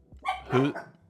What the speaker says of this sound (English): Apologies for the dogs going ballistic in the background.